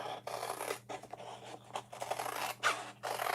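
Scissors cutting paper along printed cut lines, a close, quiet run of short scraping snips repeating in bursts with brief pauses between strokes.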